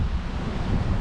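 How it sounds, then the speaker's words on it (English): Strong easterly wind gusting across the Cardiff foreshore, a steady, loud low roar buffeting the microphone with a faint wash of surf beneath, no voices. "It's easterly wind today. It's quite a strong wind."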